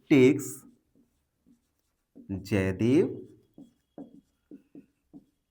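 A pen writes out a math fraction solution on paper, making faint, short scratching strokes in the pauses after a person speaks.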